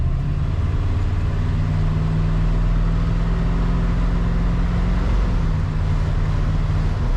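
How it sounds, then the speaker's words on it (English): A 1960 Ford F-100 pickup truck engine pulls steadily under load, its low rumble rising slightly in pitch as the truck gains speed, loud and continuous with road noise. "Nice acceleration in this truck."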